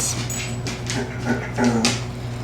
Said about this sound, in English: You hear Hunter crying? He thinks it's time for dinner